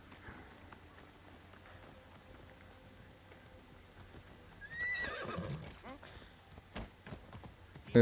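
Horse hooves in the Assassin's Creed Origins video game: a horse whinnies, then hooves clip-clop in a short run amid quiet game ambience, with a person talking over it.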